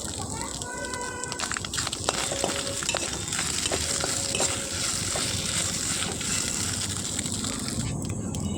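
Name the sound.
stir-frying crumbled mixture in pan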